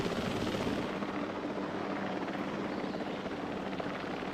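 Helicopter airlift in the video game Jurassic World Evolution 3: a steady, close rotor-and-engine whir holds evenly throughout, with no talk over it.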